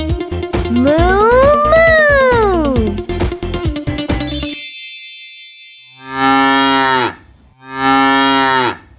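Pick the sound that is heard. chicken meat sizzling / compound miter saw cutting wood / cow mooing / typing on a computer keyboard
cow mooing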